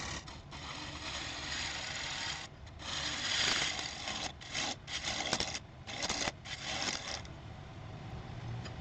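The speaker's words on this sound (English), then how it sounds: "So I can begin to cut that tenon." A wooden tenon being cut on a lathe: a steady, close rasping and grinding of the tool against spinning wood, broken by brief pauses and changes in intensity, with no talk.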